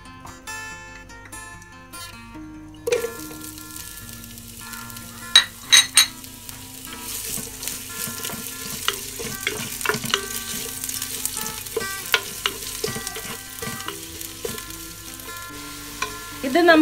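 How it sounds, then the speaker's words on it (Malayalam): Sliced onions frying in ghee in a pan for ghee rice crackle and sizzle steadily, with occasional sharper clatters and scrapes of stirring; quiet at first, then a busy, close sizzle throughout. "എന്നിട്ട് നമുക്ക് ഈ ഉള്ളി ഒന്ന് ഫ്രൈ ചെയ്തെടുക്കാം."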